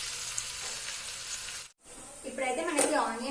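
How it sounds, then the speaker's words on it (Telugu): Chopped onions and green chillies sizzle steadily in hot oil for an ivy gourd masala curry. After a brief cut the frying continues while a voice speaks over it. "ఇప్పుడు ఆనియన్ మంచిగా ఫ్రై అవ్వాలి"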